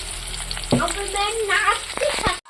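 Goat spleen with turmeric and salt sizzles and crackles in a hot pan with occasional stirring scrapes, steady and close throughout.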